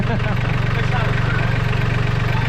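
A Solis 26 mini tractor engine idles loudly and steadily, its low pulsing chug running evenly throughout, close by.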